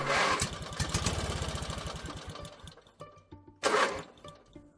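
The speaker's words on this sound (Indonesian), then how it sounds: "mesin motor Awang mulai tersendat" A motorcycle engine sputters and stutters, with a rapid uneven putter that fades and chokes, then a brief loud burst near the end before dying away; close and clear, with no talking.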